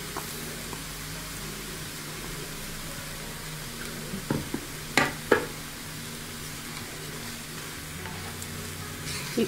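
Rice and eggplant mixed with masala powder frying in a pan for vangi bath, a soft steady sizzle with a few scraping stirs and taps of the spoon, with no talking.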